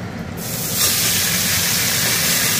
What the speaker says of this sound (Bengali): এই যে এবার মাংসটাই করায় বসিয়ে দিই।